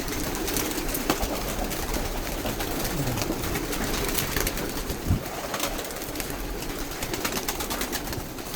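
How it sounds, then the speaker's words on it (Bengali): A large flock of pigeons kept in a loft coo softly beneath a steady, dense wash of background noise. "অনেকগুলো কবুতর আছে মাসাল্লাহ"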